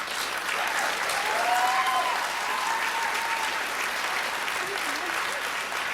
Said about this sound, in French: Oui, oui, applaudissez-la.